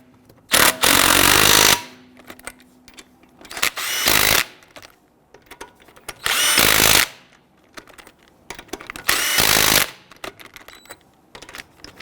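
A power tool on a Ford Explorer wheel snugs down lug nuts in four loud, short bursts separated by quiet gaps with faint clicks and handling noises, nearby and without speech.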